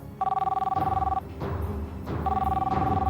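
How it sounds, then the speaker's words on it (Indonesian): A home telephone in an Indonesian TV drama rings with two long trilling electronic bursts, loud and close, while a low voice mumbles between the rings. "Telepon tuh, Pak, angkat."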